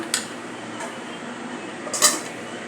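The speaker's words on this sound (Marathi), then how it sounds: "आणि पुन्हा झाकण ठेवूया" A lid goes back onto a cooking pot of mango shira: a few light metallic clinks and taps, with the loudest clatter near the end, against a quiet kitchen background.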